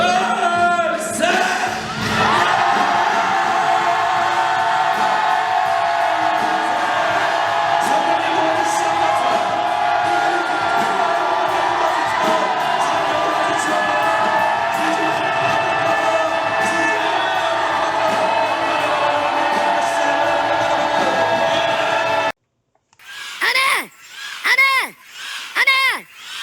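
A church congregation shouts together in imitation of a lion's roar, a loud sustained mass roar and cheer lasting over twenty seconds that cuts off abruptly, followed by a few brief spoken phrases.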